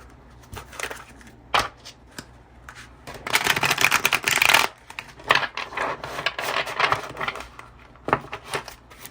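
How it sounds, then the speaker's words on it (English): Tarot cards shuffled unevenly by hand, with scattered riffles and slaps and a longer dense burst in the middle, close and moderately loud, with quiet gaps between handfuls. "I do not know why I cannot shuffle today."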